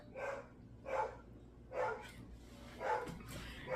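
Dogs next door bark in four spaced, fairly loud woofs from a short distance away, with no talking over them.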